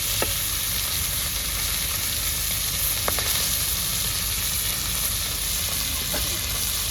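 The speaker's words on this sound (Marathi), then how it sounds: "झाले 1 नंबर फ्राय करेल आपले रवा फ्राय." Tilapia fillets coated in semolina sizzle and fry steadily in a hot pan, a continuous close crackle with occasional sharper pops and no talking.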